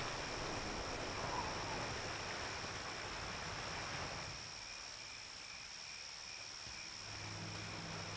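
Rain falling in the video game Neverwinter Nights, a steady hissing patter with frog-like croaks and insects beneath, fairly faint and continuous, thinning a little partway through.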